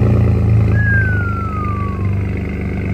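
Low, steady engine drone with a deep bass rumble from a Toyota Tundra TRD Pro fitted with a Carven exhaust, holding a constant idle-like note throughout, with a thin whistle sliding downward in the middle.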